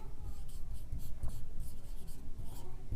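A pen scratching steadily across paper as a math solution is written out by hand, close and continuous with small rhythmic strokes over a low background hum.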